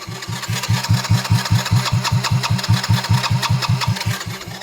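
Small Honda Magna 50 motorcycle on electric start: a steady, rapid churning of the starter turning the engine over for several seconds without catching, close and fairly loud, with no voices.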